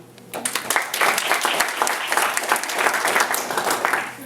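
Applause from a room full of attendees at a real estate investing seminar in New York City, rising quickly into brisk, dense clapping that holds steady, with a few faint voices underneath.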